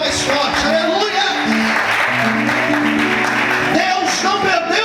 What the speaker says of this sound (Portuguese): se é para Deus, aplauda mais forte